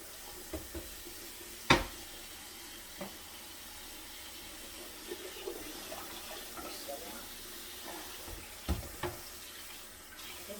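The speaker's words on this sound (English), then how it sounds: "start running cold water in there" Cold tap water runs into a sink over boiled eggs, a faint steady hiss with occasional soft knocks and clatters.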